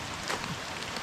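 Light drizzle falling outdoors in the rural Philippines, a soft continuous patter of fine raindrops spread evenly through the short clip with no talk.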